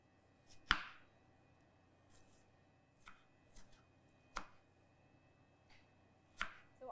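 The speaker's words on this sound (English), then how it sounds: "we're going to cut our tomatoes into chunks and add them to our pot" Tomatoes being cut into chunks on a board, a handful of separate crisp knife chops spaced out over several seconds, quiet and close, with no talking.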